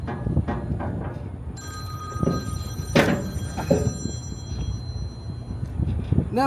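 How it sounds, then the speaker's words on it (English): A telephone rings with a bright electronic trill over low rumbling background noise, nearby and moderately loud. "my phone just never stops ringing"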